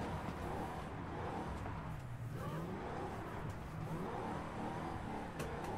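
Drift car engine in a racing video game, revving continuously with throttle rising and falling, loud and steady throughout with no talk.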